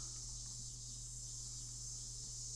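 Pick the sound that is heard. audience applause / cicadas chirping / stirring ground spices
cicadas chirping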